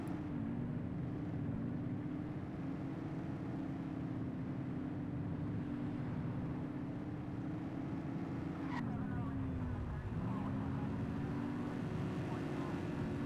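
A speeding car in The Precinct, a GTA-like police game, roars past over a steady, loud engine drone, its pitch sagging briefly near the end after a sharp click-like transient.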